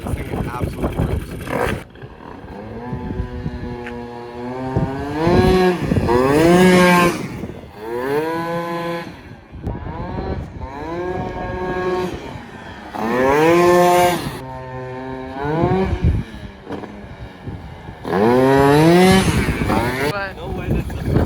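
A tuned Yamaha JOG 3KJ scooter engine on a test run revs repeatedly in rising and falling bursts, loud and close, with short pauses between each run.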